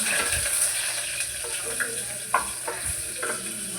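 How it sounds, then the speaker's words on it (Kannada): Onions frying until brown in a pan for vegetable pulao, a constant close sizzle with several distinct stirring scrapes and one sharper knock midway, no one speaking. "ಈರುಳ್ಳಿ ಸ್ವಲ್ಪ ಬ್ರೌನ್ ಕಲರ್ ಬರೋವರೆಗೂ ಹುರ್ಕೊಂಡ್ಬಿಟ್ಟು"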